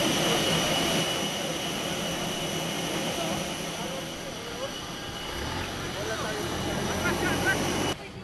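Engines of a C-130 military transport aircraft carrying relief goods drone loudly and continuously, a steady jet-like roar with a lower rumble entering near the end, heard without speech over it.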